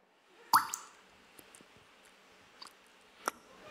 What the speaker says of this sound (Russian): Дайте звук капли.